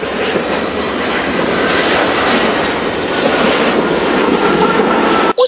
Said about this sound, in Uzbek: Uzbekistan Airways samolyoti maxsus reys bilan Toshkentga qo'ndi.